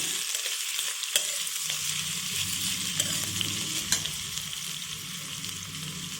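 Onions sautéing in a pan for chicken curry, a bright, even sizzle close by with a few clicks of a stirring spoon against the pan, no speech.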